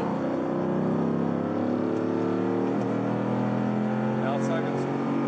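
A Lamborghini's engine roars steadily and loudly close by as it accelerates to overtake another car, with strong low harmonics throughout and a voice briefly audible over the engine noise.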